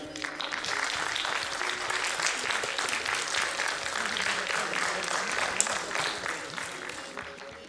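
A dense, steady round of audience applause for a drummer fills a concert stage at a Pakistani-Swiss cultural event at the Alhamra Arts Council, holding loud and even throughout with no voices over it.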